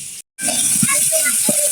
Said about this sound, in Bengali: এর সাথে পেঁয়াজগুলো দিয়েছি, রসুন কুচি দিয়েছি, ভেজে নিচ্ছি।